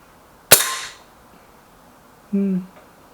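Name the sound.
Lee Enfield rifle shot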